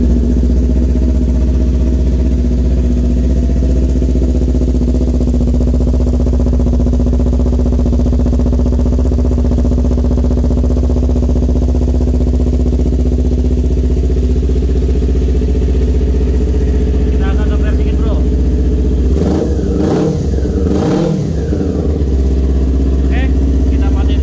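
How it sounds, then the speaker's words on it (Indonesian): Kawasaki Ninja 250 motorcycle at a showroom, its engine idling steadily and loudly throughout with a low, even rumble, briefly blipped a couple of times near the end before settling back to idle. "Oke, kita dengerin suara mesinnya."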